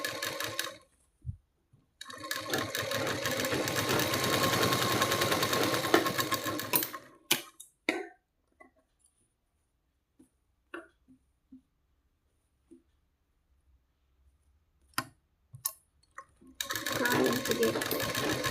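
A sewing machine runs in two loud sustained stretches while stitching a blouse, separated by quiet gaps with small clicks and taps, then starts whirring again at the end.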